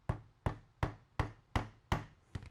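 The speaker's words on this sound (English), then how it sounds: "finish hammering the corner together" Hammer blows joining the corner of a wooden floater frame made of real wood: seven sharp, evenly spaced strikes, close and loud, each ringing briefly, the last a quick double tap.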